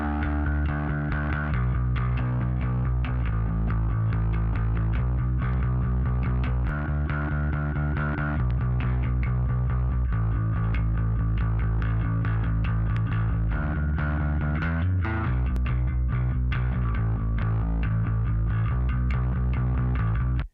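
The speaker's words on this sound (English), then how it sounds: "saturation is mild distortion" Bass guitar line run through a saturation plugin for mild distortion, playing a steady, continuous riff alone with dense harmonics and no talk.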